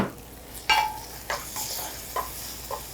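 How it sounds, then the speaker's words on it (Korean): Corn and vegetables stir-frying in a pan with tomato sauce for a shrimp and sweet potato pizza topping, with a spatula scraping and stirring in several distinct strokes over a soft, continuous sizzle. "이렇게 야채가 볶아지면서 토마토 소스랑 같이 맛있는 피자 소스가 되죠"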